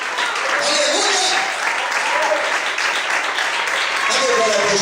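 A church congregation applauds strongly during a sermon, a continuous dense wash of clapping heard close, with voices calling out and talking over the noise.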